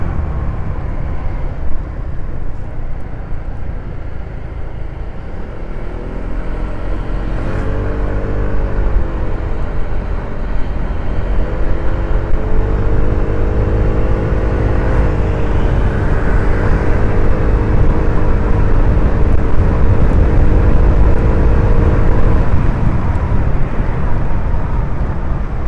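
An ER150P motorcycle engine climbs uphill on a mountain road, giving a steady loud drone with a rising and falling harmonic whine as revs change, and no talk over it.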